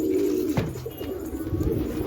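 Pigeons in a home loft give low, rolling coos, repeated and close, over a steady hum of background noise.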